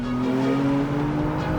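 A manual 2022 BMW M3 in its M2 driving mode gives a sustained engine and drivetrain drone with steady low tones, heard briefly from inside the car without talk.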